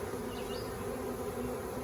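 A swarm of honey bees being hived, buzzing in a dense, continuous, close drone with no pauses and no voices.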